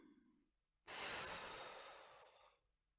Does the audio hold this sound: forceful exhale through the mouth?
yes